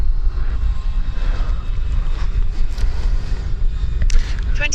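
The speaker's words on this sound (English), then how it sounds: "That thing roars when you give it full throttle" An E-flite Viper RC jet roars past at full throttle outdoors, a steady loud windy rush that holds throughout with slight swells and a brief sharper burst near the end.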